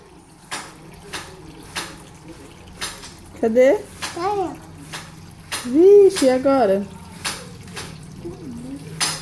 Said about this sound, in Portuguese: Você não acha que tá gastando muita água aí? Você não acha melhor desligar essa torneira?